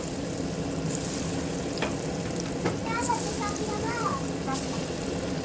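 Steady, dense sizzling of lentil balls frying in hot oil, continuous throughout, with faint voices in the background.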